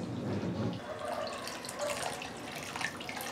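Water poured into a buttermilk curry with okra, a soft trickle and splashing over quiet kitchen background, fairly faint and continuous for a few seconds.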